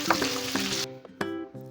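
Chopped onions and cumin seeds frying in a pan, a loud close sizzle cut by a few quick stirring scrapes and taps, no talk.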